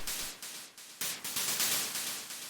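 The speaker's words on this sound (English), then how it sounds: "There you go, and then it's actual white noise." Synthesizer white noise produced by FM modulation layered over a saw wave, loud hissing bursts that swell and decay in a repeating rhythm, rising to a denser steady wash halfway through.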